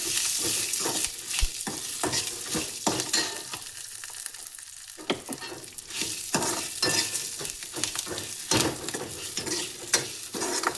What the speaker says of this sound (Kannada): ಇವಾಗ ಇದನ್ನು ಚೆನ್ನಾಗಿ ಫ್ರೈ ಮಾಡ್ಕೋಬೇಕು